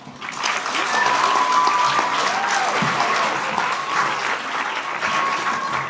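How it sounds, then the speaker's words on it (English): Curtain-call applause for the Tin Man at a Wizard of Oz theater performance: the clapping swells quickly and holds strong and steady, with light cheers and voices woven through. "Give a round of applause for the Tin Man."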